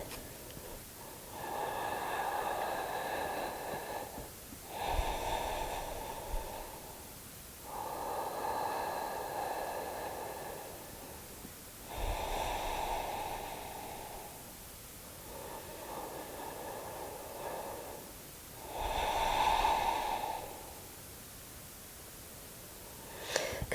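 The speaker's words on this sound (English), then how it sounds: "3 rounds of breath." Slow, even breaths during a gentle yoga rest pose, forehead resting on the hands: three or so long inhale-exhale cycles, each a soft airy hiss lasting several seconds with brief pauses between, close and alone in a quiet room.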